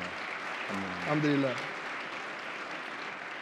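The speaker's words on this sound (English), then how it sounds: "I appreciate you for clapping" An audience at a Muslim community convention applauds steadily throughout, with sustained clapping that swells briefly while a voice speaks a few words over it.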